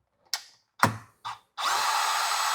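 A power tool works loose 10 mm bolts on an electric vehicle during a front LED light installation: two short bursts, a sharper clattering hit, then a sustained whirring run, close and fairly loud.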